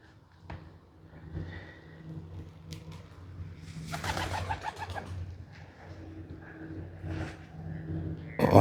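A couple of pigeons coo softly on a beach spit at Tyee Spit, Campbell River, their low repeated calls faint against outdoor background noise, with a brief louder rustling burst midway.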